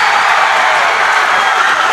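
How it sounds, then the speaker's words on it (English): Crowd at a Springdale high school basketball game, Har-Ber vs. Springdale, roaring in a dense, steady wash of cheering and applause right after a late made free throw, loud and continuous. "I don't know if you can hear the roar, but the crowd is going crazy"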